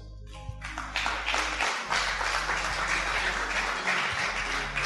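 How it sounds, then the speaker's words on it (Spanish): A church congregation breaks into applause for the Lord during a sermon, a brief lone tone first, then a swelling, sustained roar of many hands clapping that fills the room and dips briefly near the end. "¿Cuántos aplauden al Señor?"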